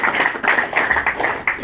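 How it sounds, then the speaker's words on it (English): A small gathering at a wine tasting gives a brief round of applause for a young presenter, a short burst of distinct, fairly close hand claps. "Take a quick round of applause for this young man."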